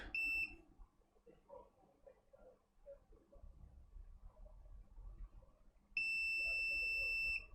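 A multimeter in continuity mode gives a sharp steady beep at the start and again near the end while checking for a short on the main power rail of a dead Asus X405U laptop, with quiet handling noise in between.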